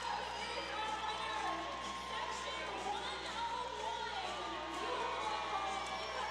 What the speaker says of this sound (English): it's hard to hear over the crowd